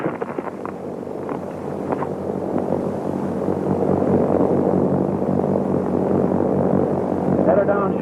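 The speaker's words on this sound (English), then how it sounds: "Airplane!" A propeller airplane drones overhead in a 1935 film soundtrack, a steady rough rumble that grows slightly louder, with voices speaking over it.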